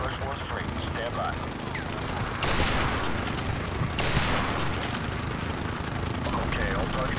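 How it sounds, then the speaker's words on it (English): Sustained heavy gunfire comes from a fortified position in Call of Duty 4, a steady roar of shots with a couple of sharper bursts. Radio-style voices talk over it. "we are taking heavy fire from a fortified position on the fifth floor"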